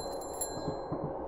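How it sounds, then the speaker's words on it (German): A bicycle bell rings once near the start over a low rumbling background hum in the horror video game The Train. "Ich kann auf alle Fälle die Klingel benutzen."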